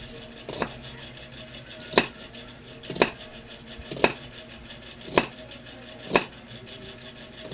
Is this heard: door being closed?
no